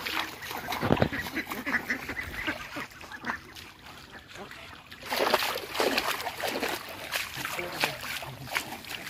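Ducks quack repeatedly in floodwater in a flooded village, with loud, overlapping honking calls up close and a faint wash of water and activity underneath.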